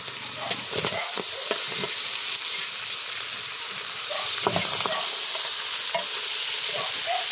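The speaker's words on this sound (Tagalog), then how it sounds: "Ilagay na natin itong kamatis mga idol." Chopped tomatoes sizzle and fry steadily in a hot pan, a close, continuous crackling hiss broken by scattered scrapes and stirring knocks, with no voices.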